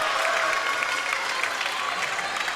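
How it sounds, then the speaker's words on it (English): A volleyball match crowd claps steadily after a kill, a dense wash of applause at moderate distance with no breaks. "As you hear the Averett crowd"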